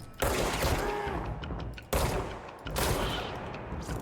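Gunfire from the video game Control: bursts of rapid shots at moderate level, a sustained volley broken by a brief pause near the two-second mark before firing resumes, with no talk over it.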